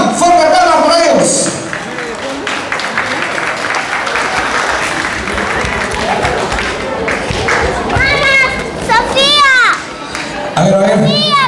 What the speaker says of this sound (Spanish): fuerte palmas para ellos